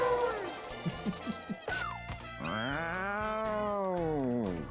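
Cartoonish kitten meows from the cat-breeding video game Mewgenics, several short chirpy mews followed by a long, drawn-out rising and falling meow, clear and up close.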